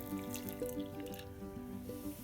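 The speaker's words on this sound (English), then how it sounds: "so in goes my warm water" Warm water trickles and drips into einkorn flour in a mixing bowl, a faint, uneven pour with small splashy drops over a soft background hum.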